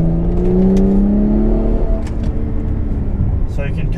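A stage 2 tuned 2011 BMW 135i with a DCT gearbox accelerates in third gear, its engine note droning and rising steadily for about two seconds before easing off, heard from inside the car with some talk layered over it.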